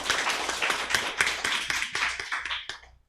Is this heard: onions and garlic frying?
no